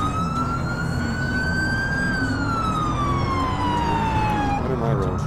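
A loud wailing police siren in the video game GTA IV sweeps up and down continuously over the rumble of a vehicle engine.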